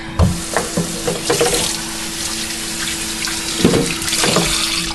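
A knife rinsed under a running kitchen tap, a loud, close, continuous water stream with irregular splashes and clatters as the blade moves through the flow, with no talking.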